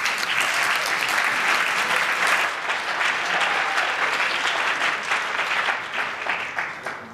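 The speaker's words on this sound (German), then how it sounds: "Einen ganz herzlichen Applaus für Open Daytown." Sustained audience applause at a youth hackathon presentation in Berlin, steady dense clapping for about seven seconds that eases slightly toward the end.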